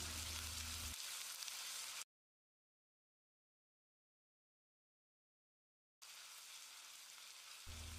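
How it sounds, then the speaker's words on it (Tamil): Marinated chicken frying and being stirred over a high flame, a loud, steady sizzle that cuts out to silence midway and then resumes. "நம்ம மேரினேட் பண்ணி வச்சுருந்த சிக்கனை போட்டு 1 நிமிஷம் நல்லா பெரட்டி விடணும்."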